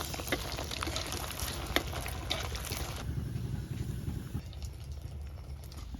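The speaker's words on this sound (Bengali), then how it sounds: "তেলটা গরম হয়ে গেছে, এখন লাড্ডুটা দিয়ে দেবো।" Homemade semai laddu fries in hot oil over a wood-fired stove, giving a steady broadband sizzle that is loud and bubbly for the first three seconds, then settles into a quieter, even hiss.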